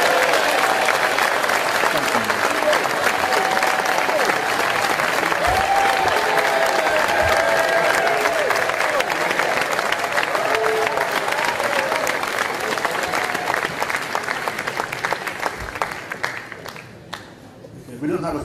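Hustings crowd in Birmingham applauding and cheering for a candidate, a sustained dense clapping with whoops mixed in, easing off over the final seconds as a voice begins.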